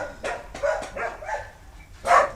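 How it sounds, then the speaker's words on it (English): Dogs barking outdoors at a distance, a few sharp woofs spread over a couple of seconds with a louder final bark, heard faintly over quiet background noise. "Ivan, Sorry about the dogs."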